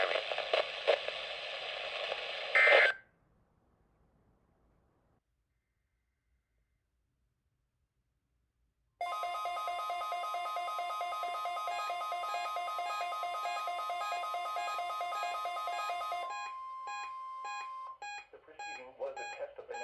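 Emergency alert test tone from a weather warning broadcast: a loud, steady electronic alarm with stacked harmonic tones lasting several seconds after a burst of noise and a long silence, then trailing into fragmented tones.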